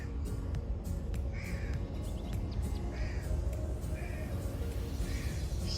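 A crow perched on a rooftop outside caws in several separate, short harsh bursts over a steady backdrop of light drizzle.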